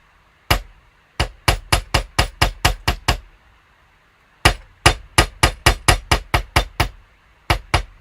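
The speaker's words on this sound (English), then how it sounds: "you want to have your hammer hit flat on the metal" Hammer striking a metal pendant to texture it, a fast series of sharp ringing clangs in two bursts of about ten blows each with a brief pause between, loud and close.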